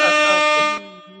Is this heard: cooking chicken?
no